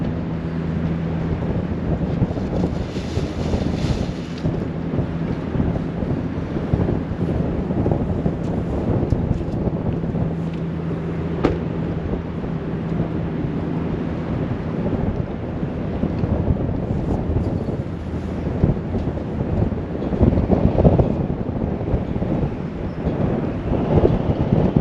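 Wind buffets a fishing boat out on the River Humber, steady gusty roar and microphone rumble running throughout with water and hull noise beneath and no talk.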